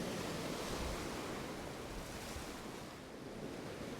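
Ocean surf rushing and washing over rocks in a broad continuous roar, with wind buffeting the microphone, gradually easing slightly toward the end.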